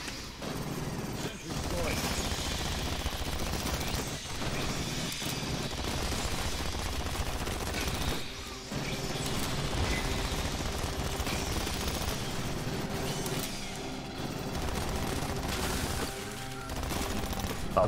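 Sustained pistol and heavier gunfire in the sci-fi shooter game Aliens Fireteam Elite, dense rapid bursts of shots running almost without pause, loud and close, with voices talking over the combat.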